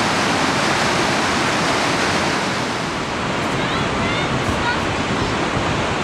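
Steady Brook Falls in Newfoundland pours in a dense, unbroken roar of falling water, loud and close, with no pauses.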